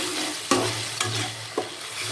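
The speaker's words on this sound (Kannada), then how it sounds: "ಈರುಳ್ಳಿ ಸ್ವಲ್ಪ ಕೆಂಪು ಬಣ್ಣಕ್ಕೆ ಬರೋ ಥರ ಈ ಥರ ಫ್ರೈ ಮಾಡ್ಕೊರಿ." Onions and tomato sizzle in a pan for a Hyderabadi chicken masala, with a steady frying hiss broken by a few sharp scrapes of the spoon as they are stirred, close by and without talking.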